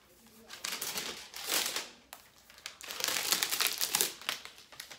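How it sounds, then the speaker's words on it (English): Paper wrapping crinkles and tears as it is peeled off a new rose gold MacBook Air with M1 chip, two close bursts of crumpling rustle separated by a brief pause, with no talk. "And so I'm just gonna take the paper off."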